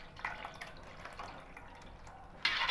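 Milk poured into a kuih pulut wajik mixture, a soft trickling liquid sound with light drips, closing in a brief louder splash; no talking.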